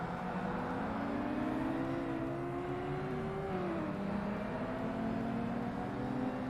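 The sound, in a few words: racing car engine in Forza Motorsport video game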